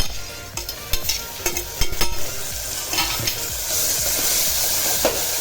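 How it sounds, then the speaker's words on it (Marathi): Onion and chopped tomato sauté in oil for a chicken thali, with a low steady sizzle under sharp scraping and knocking as a spoon stirs the pan, the frying hiss swelling louder toward the end. "ते छान असं परतून घ्यायचं तेलामध्ये"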